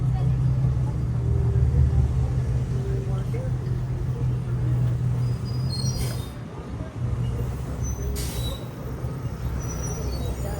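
A city bus pulls up on Third Avenue in a steady, loud rumble of street traffic with voices in the background, its engine drone holding level before a brief dip near the end.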